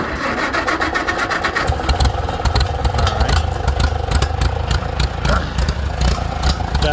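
Motorcycle engine fitted with a Chinese carburetor catches and settles into a steady, loud, close idle with rhythmic clatter and slight revs throughout.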